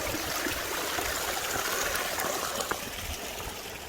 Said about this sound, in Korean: 시냇물이 흐르고